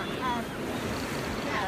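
Waves crash and wash against a jetty by the sea, a continuous loud rushing surge with wind buffeting the microphone, with no talk.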